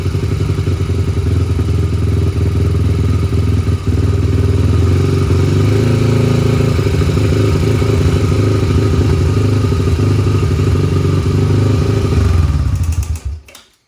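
A Honda TRX 250X ATV engine idles and runs loudly and steadily after being roll started, with a constant close rumble and some mechanical clatter before it cuts off abruptly near the end.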